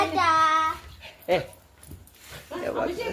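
A puppy whimpers and yips in short, high, pleading cries, close to the listener, while someone talks affectionately over and between them.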